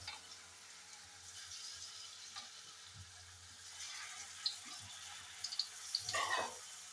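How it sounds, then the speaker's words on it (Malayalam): Papadam pieces fry quietly in hot oil, a soft continuous sizzle that swells into louder crackling and popping toward the end. "ഇനി നമുക്കിതൊന്ന് വറുത്ത് കോരാം"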